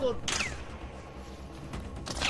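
Gunfire in the video game ARC Raiders comes as short bursts of rapid shots, one early and one near the end, fairly quiet and somewhat distant, under a player's excited talk.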